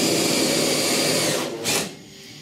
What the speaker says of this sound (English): Okay, that pretty much drilled that one.